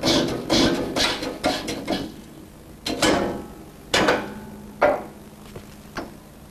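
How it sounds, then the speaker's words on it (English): A tapered roller bearing on a Ford transaxle output shaft is driven home with a piece of tubing, giving a series of metallic taps and knocks, close and irregularly spaced with short pauses. "the tapered roller bearing that has to be pressed home using a suitable piece of tubing"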